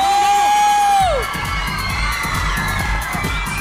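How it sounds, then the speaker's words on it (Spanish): An audience cheers and whoops for the pop group RBD, breaking into loud, sustained crowd noise right after a steady high tone cuts out in the first second. "Un aplauso para RBD."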